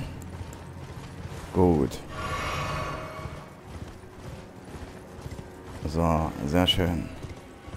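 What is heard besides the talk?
horse hooves while riding in Elden Ring video game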